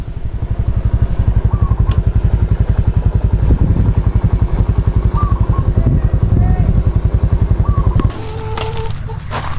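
A motorcycle engine putters loudly and rhythmically close by, with a rooster crowing several times in the background.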